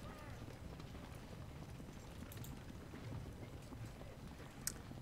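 Horse hooves clip-clop at a steady running pace as a rider moves in the video game Ultimate General: Civil War, quiet and continuous throughout.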